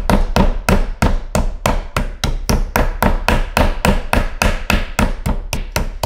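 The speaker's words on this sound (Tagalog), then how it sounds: "So, ipapound lang natin ang dahan-dahan itong chicken hanggang sa ma-flatten natin." Raw chicken breast being pounded flat with a meat mallet: a long, steady run of loud, evenly spaced thumping blows, roughly three or four per second, with no talking.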